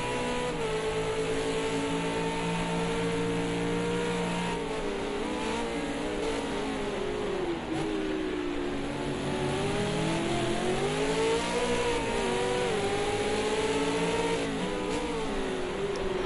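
A V8 race car in the MOS Australia V8s series screams down the straightaway at Road America. The loud, sustained engine howl rises and falls in pitch as it accelerates and passes, with no talking.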